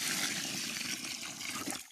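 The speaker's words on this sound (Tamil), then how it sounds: "அப்புறம் அந்த குழியில் ஒரு பக்கெட் தண்ணி ஊற்றிக்கலாம்." A bucket of water is poured into a planting pit dug for a coconut seedling, a continuous rushing gush of water that ends abruptly near the close.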